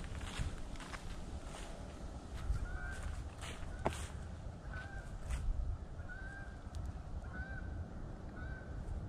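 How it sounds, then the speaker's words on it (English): Waterfowl honk repeatedly at a lake in Myre-Big Island State Park, Albert Lea, Minnesota: short, evenly spaced calls at moderate distance over a steady outdoor hum, with a few faint footsteps or rustles. "Waterfowl."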